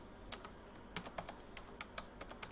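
Typing on a computer keyboard: a few soft, scattered key clicks at an irregular pace, quiet and close, over a faint steady hum with no talk.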